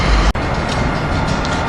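A Keystone train passes at 30th Street station as a loud, dense rail rumble, briefly dipping before the roar resumes close and steady, with no talking.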